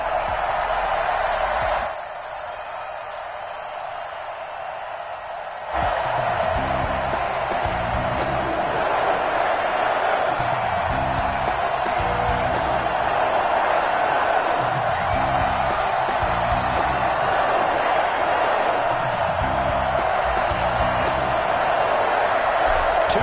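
Stadium crowd noise at Lambeau Field in the Madden 21 NFL game, Lions against Packers, a steady loud roar with rhythmic low thumping and cheering, briefly quieter near the start before swelling back.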